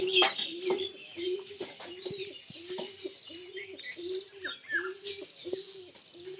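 Pet pigeons kept in a rural home coo repeatedly in short rhythmic bursts, with occasional chirps and light rustling close by.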